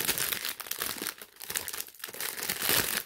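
Crinkly plastic packaging around a diamond painting kit being pulled and torn open, a close, fairly quiet run of crackling and rustling with brief pauses.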